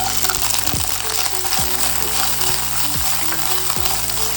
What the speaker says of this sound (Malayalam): ഓയിൽ ചൂടായിട്ടുണ്ട്, ഇതിലേക്ക് ഉള്ളി ഇട്ട് കൊടുക്കാം.